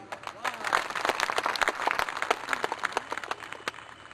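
Applause for a speaker at a political rally in Gorakhpur, a dense, steady patter of many hands clapping from a large crowd, sustained throughout with voices mixed in.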